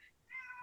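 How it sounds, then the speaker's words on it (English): A cat gives a short, faint meow while trying to get in, a single rising call that is brief and quiet with no talking over it. "that's my cat."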